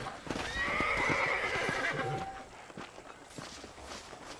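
In the Red Dead Redemption video game, a horse gives a quiet, shrill whinny, followed by soft, scattered clip-clop hoofbeats on the ground.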